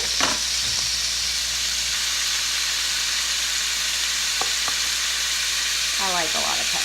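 Shrimp with garlic, salt and pepper sizzle steadily in a hot pan, a loud continuous frying crackle with occasional utensil scrapes and brief voice sounds.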